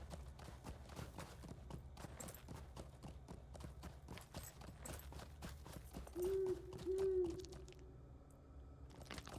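Horse hooves clip-clop in a steady rhythm as a rider travels in the Lord of the Rings Online video game, quiet and continuous, with a brief low tonal sound partway through.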